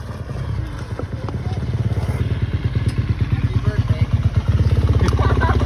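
A new dirt bike being ridden off toward the shop, a close, loud, pulsing engine putter with a fast regular beat that builds slightly, with voices over it.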